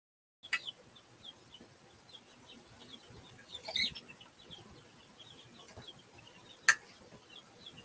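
A chicken gives soft, scattered clucks and chirps at low volume, with a few louder bursts standing out against quiet background noise and no talking.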